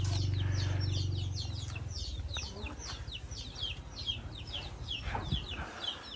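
Household chickens raised by an elderly couple cluck and chirp in quick repeated calls, fairly close, over a low hum that fades after the first second or so.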